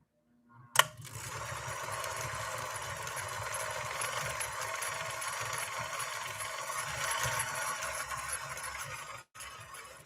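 A Nordic-Husqvarna Automatic sewing machine runs steadily in its slow gear, a continuous close mechanical whir with a low rhythmic thump, starting after a brief click and stopping abruptly near the end.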